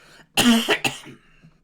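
A single harsh cough with a short follow-up burst, close and fairly loud, then quiet.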